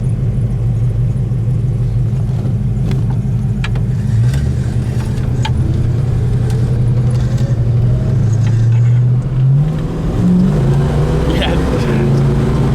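A 1971 Plymouth GTX engine pulls hard from inside the car, its loud rumbling note climbing steadily in pitch as it accelerates, dropping briefly on a shift and then rising again, with voices talking over it.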